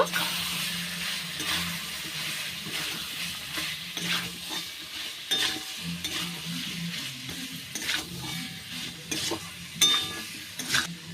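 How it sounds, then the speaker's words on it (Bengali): Fried pumpkin and potato pieces stirred with spices in a pan for chingri kumror chhakka, continuous close sizzle with repeated spatula scrapes and occasional metallic clinks of utensil against pan, brief faint voice in the background. "কুমড়ো আর আলু এইবার আরেকটু ভালো করে কষিয়ে নেব।"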